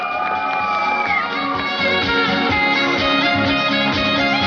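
A crowd applauds and cheers at the award ceremony of a cross-country running event. The dense, loud mass of clapping and raised voices carries on without a break.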